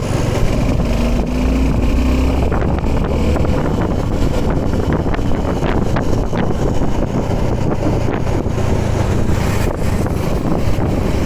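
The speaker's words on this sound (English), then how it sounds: "So let me just rev it up a little bit more on-road as well" A 2023 Suzuki V-Strom 250 SX motorcycle rides on the road with its engine droning steadily beneath heavy, continuous wind buffeting of the microphone.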